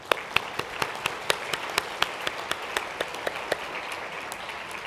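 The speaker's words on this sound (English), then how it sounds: "join me in clapping and celebrating this achievement for the pre-post transplant staff" An audience at a BC Transplant update claps for the pre- and post-transplant staff, sparse but steady applause with distinct individual claps spreading through the room, moderately loud with no talking.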